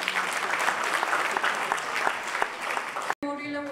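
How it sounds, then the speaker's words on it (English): An award ceremony audience at the 2016 Smita Patil Memorial Award event applauds loudly and continuously, a dense wash of clapping that cuts off abruptly near the end. "Please welcome Mr. Suresh Prabhu with a huge round of applause."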